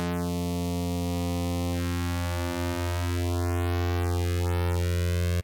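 Arturia Pigments 4 software synthesizer sustains a steady, bright harmonic tone while its notch filter sweeps down, back up and swoops high twice, carving a moving hollow through the sound, with no talking.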